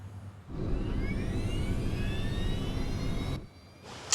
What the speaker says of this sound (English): Okay, setting takeoff thrust.